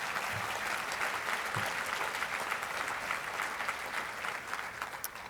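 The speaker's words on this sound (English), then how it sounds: "Now let's have an applause." Sustained applause from an audience at a business chamber's annual meeting, a dense steady clatter of many hands filling the room for several seconds without any voice over it.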